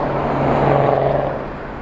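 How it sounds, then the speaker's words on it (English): A local city bus, the number 10, rolls past on a street near Hollywood's Vine subway station, a broad whooshing engine rumble swelling then fading over under two seconds. "One of the local buses, the number 10."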